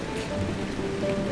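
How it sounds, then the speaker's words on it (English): Steady rain falls in a cartoon scene, a dense continuous patter of drops on surfaces, moderately loud and even throughout, with no voices. "I think the rain's dying down now."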